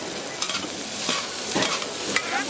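Steady sizzling and frying of pad thai in a hot wok at a market stall, with a spatula scraping and tossing food in quick, irregular strokes.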